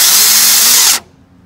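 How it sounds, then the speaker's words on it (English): A power drill bores into a wooden trellis piece in one loud, close, high-pitched whir lasting about a second before cutting off abruptly into quiet. "First drill, then screw it in."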